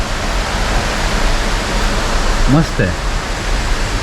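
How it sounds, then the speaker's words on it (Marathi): A waterfall hidden behind trees in the dense Sahyadri forest near Poladpur roars as a steady, loud broadband rush, with a man's brief remark heard over it. "हा बघा हा पण एक सुंदर वॉटरफॉल आहे इथे."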